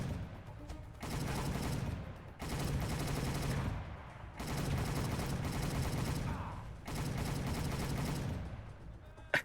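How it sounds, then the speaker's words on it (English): Mounted guns in Soldier of Fortune: Payback hammer out sustained bursts of rapid automatic fire, four long volleys separated by short pauses, loud and close. "These mounted guns are horrendous."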